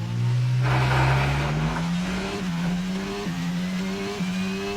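Racing cars in the F1 22 game at the Canadian Grand Prix produce a close, loud engine whine that climbs in pitch through a series of quick gear shifts while other cars pass.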